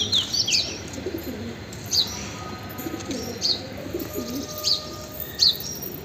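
Pigeons on a rooftop eat leftover bread, giving soft, repeated coos and chirps over a low outdoor hum, with a faint flutter of wings nearby.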